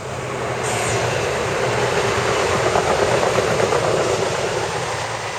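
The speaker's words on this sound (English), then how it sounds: "oh, it's a train" A train rolls past nearby with a loud, sustained rumble and rattle of rail cars that swells in after a moment and holds steady to the end, with no talking over it.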